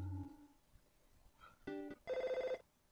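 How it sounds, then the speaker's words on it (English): Telephone ringing in the EarthBound video game, a short chiptune bell trill that repeats in quick bursts after a few soft game tones, clear but fairly quiet. "Dude, your phone's ringing."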